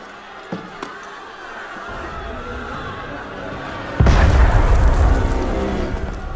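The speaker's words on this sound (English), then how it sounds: "That was cannon fire." Cannon fire in an Assassin's Creed Unity cutscene: after low murmuring, a sudden heavy boom erupts and rolls into a loud, sustained rumble.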